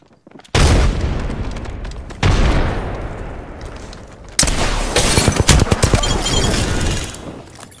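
Frag grenade explosion in the shooter game Apex Legends: loud booming blasts hit in sequence, each followed by a dense roar of gunfire and debris that stays heavy and close throughout.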